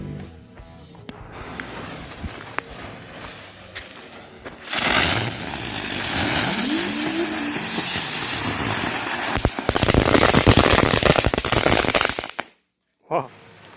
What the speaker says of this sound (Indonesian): ini selanjutnya ada 3 buah mercon teratai ya